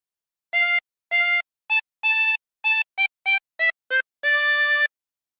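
A chromatic harmonica plays a phrase of Oh Susanna as a series of separate blown and drawn notes, short and longer tones with a long held final note, clear and alone with no talking.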